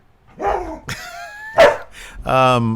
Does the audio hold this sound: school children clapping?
no